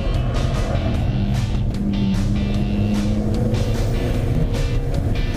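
Car driven flat out on the Jarama race circuit, a steady loud engine roar at full throttle with rushing wind and road noise, heard alone without talk.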